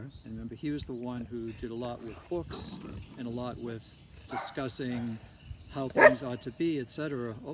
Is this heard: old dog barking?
yes